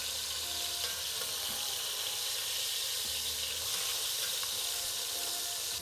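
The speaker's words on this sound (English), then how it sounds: "Turn it quickly to sear off the other side" Harissa chicken thighs searing in a hot pan give off a steady, dense sizzle with a bright hiss, close and even throughout, with a few faint clinks.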